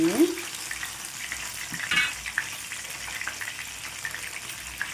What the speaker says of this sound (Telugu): ఈ విధంగా వేడి వేడి ఆయిల్ పైన ఈ విధంగా వేసుకుంటూ ఫ్రై చేసుకోండి